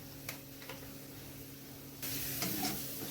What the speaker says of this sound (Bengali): আবার আমি খুন্তি দিয়ে ভালো করে এটা ভাজা ভাজা করে নিচ্ছি।